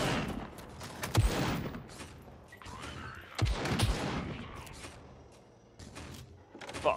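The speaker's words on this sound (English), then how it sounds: "People can probably hear those gunshots too." Gunfire in the survival video game SCUM sounds as a few sharp, loud shots and bursts spaced a couple of seconds apart, each ringing out over a quieter background with faint rustling between them.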